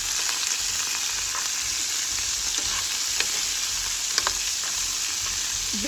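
Steady hot-oil sizzle in a frying pan, with a few sharp scrapes and clinks as potatoes with turmeric are stirred and turned. No talking.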